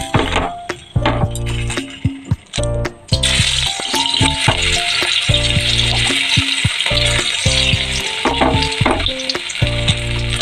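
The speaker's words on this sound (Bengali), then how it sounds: "এবার আমি একটা একটা করে বড়া দেব।" Kanthal-leaf fritters frying in hot oil in a wok give a loud, steady sizzle that swells sharply a few seconds in, with stirring scrapes and light utensil clinks throughout.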